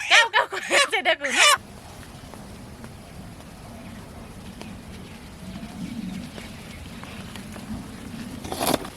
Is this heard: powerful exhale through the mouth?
no